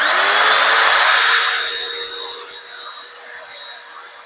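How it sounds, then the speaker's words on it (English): A power drill spinning a polishing pad whirs loudly at first, then its high whine fades to a softer steady spin. "Take my brasso pad and then spin the drill."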